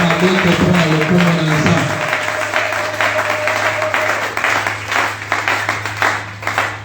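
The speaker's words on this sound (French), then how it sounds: "Est-ce que tu peux acclamer pour la parole de Dieu?" Church congregation at a French-language worship forum applauding and cheering for the word of God, a dense sustained wash of clapping filling the room, with a low hum underneath and a brief musical tone fading early on.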